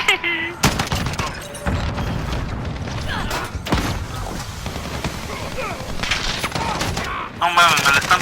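Rapid FAL rifle fire in Modern Warfare, a close-quarters loadout: several loud bursts of shots with sharp cracks, spread across the clip and mixed with game effects and a voice talking.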